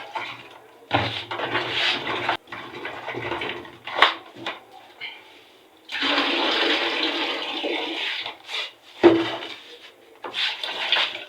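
Yam is washed in water, with splashing, sloshing bursts and a long rushing pour in the middle, loud and close, separated by brief pauses.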